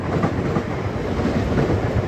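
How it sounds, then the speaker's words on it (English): A London Underground District line train rumbles past overhead, a loud, continuous heavy rolling roar with faint clickety-clack, heard from below in a bus garage. "It's just a train going above us."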